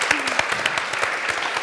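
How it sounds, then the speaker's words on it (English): Steady applause from an audience for Lord Dubs at the Cambridge Union, dense and continuous clapping with a few sharper claps standing out. "So can we just have a nice round of applause for Lord Dubs?"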